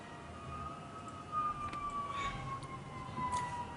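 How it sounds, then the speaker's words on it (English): A tornado siren wailing in the distance, a faint sustained rising and falling tone over low background rumble, with a few soft bumps nearby. "That's the tornado siren."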